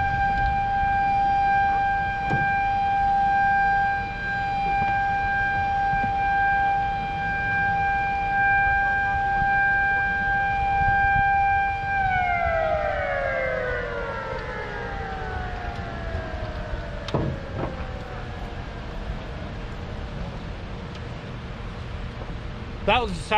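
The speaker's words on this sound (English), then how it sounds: "That was a siren for the lock" Steady warning siren at a river dam lock on the Tennessee River, loud and continuous with a sustained tone that bends downward and fades after about twelve seconds, heard from a fishing spot below the dam amid constant background noise.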